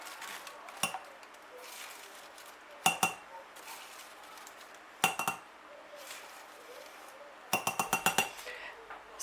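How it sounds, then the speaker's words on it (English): A spoon clinks sharply against a cup as cornstarch is scooped into it, in a few separate bursts of rapid ticks with quiet pauses between, up close in a kitchen. "grab our bag of cornstarch and put 4 teaspoons of the cornstarch into the cup"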